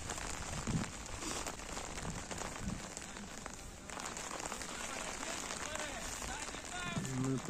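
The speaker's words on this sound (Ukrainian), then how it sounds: "Перестає дощити." Rain falling on a wet football pitch during a youth match, a faint, steady hiss with scattered small noises.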